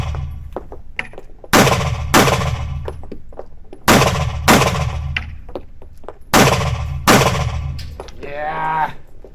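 A Daniel H9 pistol fires at a practical shooting range after a shot timer's start signal, producing loud, close gunshots that come mostly in quick pairs with short pauses between strings, followed by a brief electronic beep.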